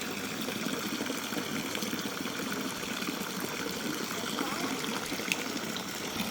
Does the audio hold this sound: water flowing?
yes